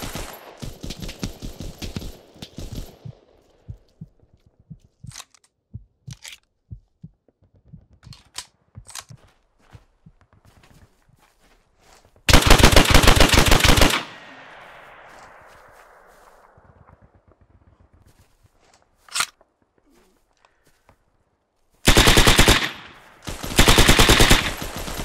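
Machine gun fire from the Hell Let Loose battle game, starting with a rapid burst and scattered single shots, then louder sustained bursts, with quieter distant gunfire and gaps between them.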